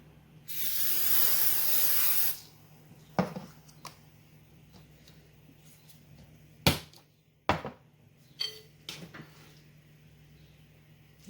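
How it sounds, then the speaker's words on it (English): A single two-second hiss of aerosol cooking spray onto a cookie sheet for zucchini patties, followed by a few scattered clunks and taps of the tray. "Spray the cookie sheet."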